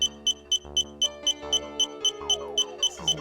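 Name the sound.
annoying beeping sounds in video game Drowned God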